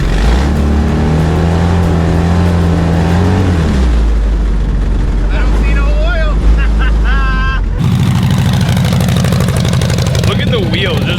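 A loud, raspy Harley-Davidson engine swapped into a mini truck revs up and down close by, pitch rising and falling, the body shaking, with people talking and exclaiming over it.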